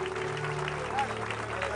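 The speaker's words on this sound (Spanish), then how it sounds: "Denle un aplauso al Señor" A church congregation at a gospel crusade bursts into brief, steady applause, a dense wash of clapping under a faint voice.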